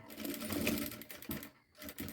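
A sewing machine closing a seam on a child's outfit: a brief close run of rapid needle stitching, a short pause, then a quick burst of stitching again.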